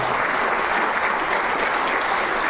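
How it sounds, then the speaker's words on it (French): An audience applauding artists at an international animation film festival, dense sustained clapping from a large crowd, loud and even throughout with no pauses. "On peut les applaudir, les artistes qui sont là."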